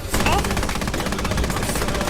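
A quad cannon fires in War Thunder, a loud, fast and continuous burst of rapid shots that starts abruptly and keeps hammering steadily to the end.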